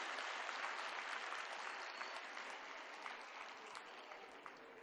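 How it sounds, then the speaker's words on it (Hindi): Audience at a school annual function clapping loudly for the children, a sustained crowd of hands beating steadily and slowly easing in volume toward the end, with no speech on top. "तो अगर आप एक बहुत ज़ोरदार तालियां इन बच्चों के लिए बजाएंगे ना"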